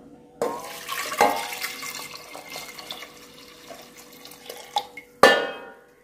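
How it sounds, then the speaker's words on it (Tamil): Water is poured from a tap or vessel over toor dal in a pot while making drumstick sambar, producing splashy bursts with clinks of metal utensils and a final loud gush near the end. "இப்போ இந்த பருப்பு மூழ்கிற அளவுக்கு தண்ணி ஊற்றிக்கலாம்."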